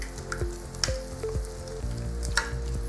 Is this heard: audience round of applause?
no